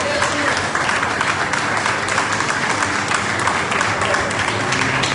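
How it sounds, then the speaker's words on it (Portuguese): Steady applause from a church congregation during a worship service, dense and continuous throughout, fairly loud and close, with faint crowd noise mixed in. "Senta aplaudindo a Jesus, por favor."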